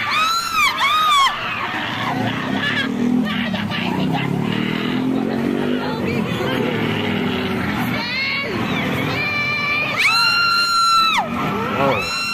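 Live audience at a pop performance screaming and cheering, a loud continuous crowd roar with high-pitched shrieks swelling near the start and again toward the end, with people talking over it.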